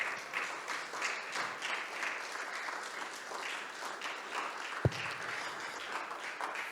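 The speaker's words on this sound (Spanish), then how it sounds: "Can we give a round of applause to God?" A room full of people clapping steadily at moderate volume during a church service, sustained applause with one sharp knock partway through.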